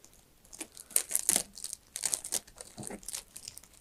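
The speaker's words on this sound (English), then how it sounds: "we'll put a piece of tape here." Packing tape is pulled and torn, then pressed onto a cardboard corner while a puppet theater is built, making quiet, close crinkling and ripping bursts in short, uneven bursts.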